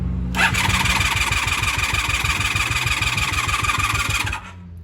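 A starter cranks rapidly for several seconds, a loud rhythmic churning with a high whine, as a long-unused 1996 Honda Magna VF750CD motorcycle engine tries to catch, then stops.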